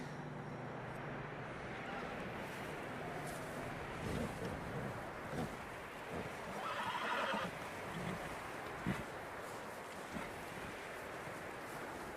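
Horses in the Red Dead Redemption 2 video game whinny and snort while their hooves clop unevenly over the ground, with a low ambient wash of water and surf behind and a few sharper hoof knocks standing out near the end.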